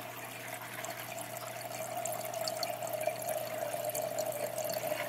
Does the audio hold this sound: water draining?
yes